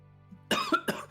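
A single person coughs loudly and close up, two or three sharp bursts in quick succession after a quiet moment, with nothing else heard.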